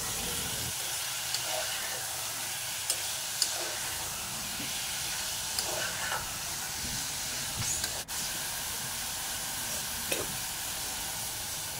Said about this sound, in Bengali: মাছ দিয়ে আরও কিছুক্ষণ কষিয়ে নিতে হবে।